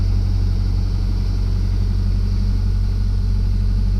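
A small Suzuki four-wheel-drive car with an automatic gearbox idles with a steady, loud, close engine rumble throughout, with no talking.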